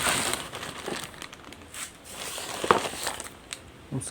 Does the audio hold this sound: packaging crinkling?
yes